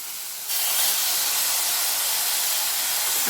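Tomato sautés with egg podimas in a pan, a sudden onset of loud, broad, steady hissing sizzle that continues evenly to the end.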